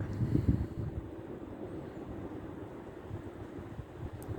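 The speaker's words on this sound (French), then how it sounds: "il fait quand même un peu frisqué avec le vent" Wind from Storm Dennis buffets a microphone outdoors, a low roaring rumble with a stronger gust near the start, then a steady blustery drone.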